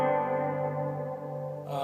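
Moog MF-104z analog delay in a CP-251 setup, its delay time gently modulated by a low-amplitude sine wave for a subtle tape-like wobble; a steady sustained tone with dense harmonic layers and echo, brightening near the end.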